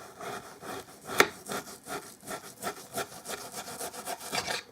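Knife slicing through frozen beef for jerky: close, rhythmic rasping strokes, back and forth like sawing, with one sharper crack early on and steady moderate loudness throughout.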